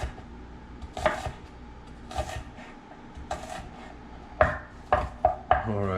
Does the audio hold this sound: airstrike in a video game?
no